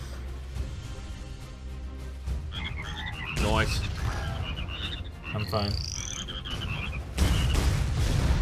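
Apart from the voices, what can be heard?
frog croaking in a video game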